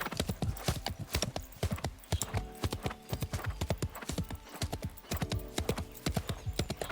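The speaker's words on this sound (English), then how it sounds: "He remains calm and spurs the horse forward." Horse hooves clip-clopping as a sound effect in a fantasy battle setting, a steady rhythmic trot of sharp close hoofbeats that continues throughout with no voices.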